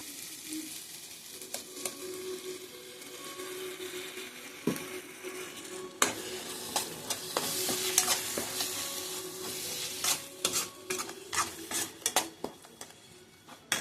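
Steady scraping and stirring of ground paste in a sizzling frying pan for tomato kurma, with soft frying hiss throughout and sharper clinks of a spoon against metal toward the end.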